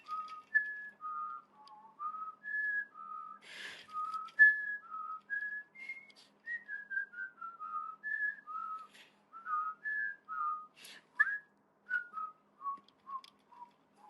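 A person whistles a melodic tune alone, clear, close and steady, with short phrases of bright notes separated by brief pauses and a few faint clicks.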